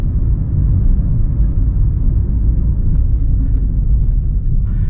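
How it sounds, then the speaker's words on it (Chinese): A car cruising on a highway, heard from inside the cabin, gives a steady, loud, low road-and-engine rumble with no breaks or voices. "今天我开车要跑一段高速"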